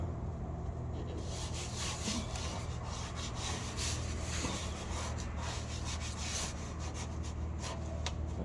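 Steady dry rubbing scrape of a stick worked against an underglow LED lighting strip during repair, continuous and close with no pauses, alone without talk.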